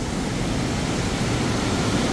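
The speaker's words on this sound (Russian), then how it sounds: "Там река." River water in Abkhazia rushes steadily, a constant broadband roar of flowing water with no voices over it.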